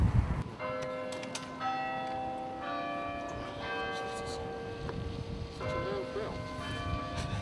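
A large church bell in Bedfordshire, the biggest in the county, rings out in sustained overlapping tones and strikes across the whole stretch, with outdoor background noise beneath.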